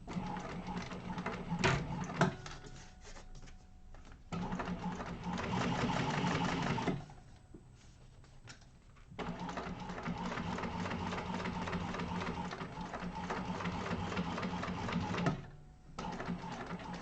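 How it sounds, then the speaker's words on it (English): Sewing machine top stitching a seam on a sling bag with a lining, running in steady bursts with short pauses between runs, loud and close with no talk. "and top stitch that seam in place"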